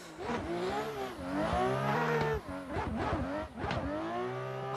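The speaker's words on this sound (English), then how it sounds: "You can hear the feathering of the clutch." A racing car engine revs up and down repeatedly, the pitch rising and dipping as the clutch is feathered, steady and loud with no talking.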